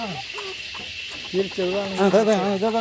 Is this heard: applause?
no